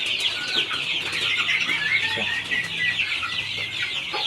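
Goliath chickens on a farm cluck and chatter continuously, a busy flock heard fairly close, with scattered faint background noise and no clear speech.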